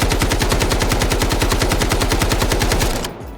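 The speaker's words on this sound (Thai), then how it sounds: "อันนี้ผมจะยิงแบบไม่คุมเลยนะ" An AKM rifle fires full auto without recoil control in the video game Delta Force, a loud, rapid, unbroken stream of shots for about three seconds that cuts off abruptly into a short fading tail.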